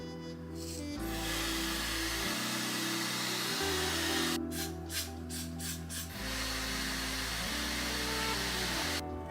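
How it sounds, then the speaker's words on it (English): Hair dryer on the cool setting blowing over a 613 blonde lace wig, a loud steady roar that shifts pitch as it is moved, with brief rustling bursts midway. "when I blow dry on cool, it gives me more of a clean finish"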